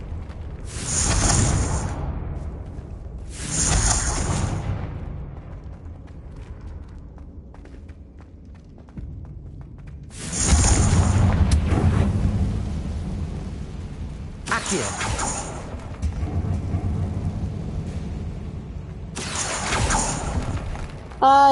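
Confringo fire-blast spells go off in Hogwarts Legacy, several separate bright, crackling bursts with low booming tails, spaced a few seconds apart over a quieter rumbling background.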